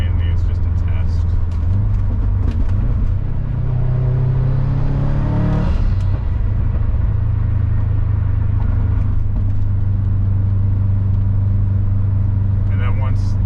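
Subaru Impreza WRX STi 2.3L engine on a test drive, a steady close in-cabin drone with a rising rev sweep around the middle, then settling back to a constant cruising hum.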